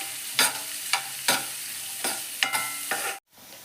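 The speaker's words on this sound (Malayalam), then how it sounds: "ഇതൊന്ന് നന്നായിട്ട് വഴറ്റിയെടുക്കാം." Finely chopped medium onion sautéing in a pan: an even sizzle punctuated by about five distinct scraping strokes of a spatula at a slow rhythm, before the sound cuts off abruptly.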